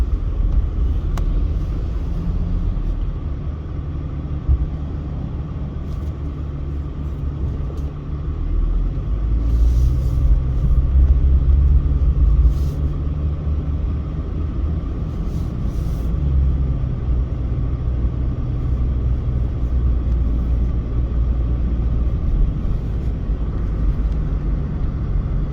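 Cars on a Georgia highway, Hwy 53 near Watkinsville, pass a vehicle pulled over at the roadside. A steady low road rumble swells as traffic goes by, heard from inside the car, with no talking.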